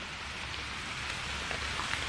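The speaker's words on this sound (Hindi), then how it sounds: "इस वक्त आप देख रहे हैं हल्की हल्की बारिश हो रही है" Light rain falls in early-morning Patna, a soft continuous patter and hiss with faint scattered drop ticks, steady and even throughout with no talk.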